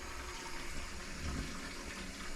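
Toilet tank refilling after a flush, a steady rushing and hissing of water running continuously nearby with a brief low gurgle midway, no voices.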